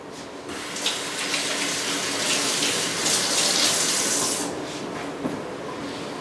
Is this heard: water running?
yes